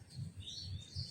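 Birds chirp as a sound effect in a children's story about events before the Prophet Muhammad's birth. The tweets are soft and repeated, rising and falling over a low background hum, with no voices.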